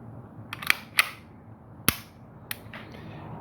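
Sharp metallic clicks and snaps from a Beretta 92X pistol being reassembled with a longer guide rod, a handful of separate close, crisp impacts spaced irregularly over a quiet background.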